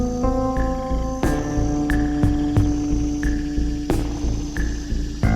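Slant-faced grasshopper singing inside a grasslands vivarium, a steady buzzing drone broken by regular sharp clicking pulses roughly every half second to second, close and continuous with no voices.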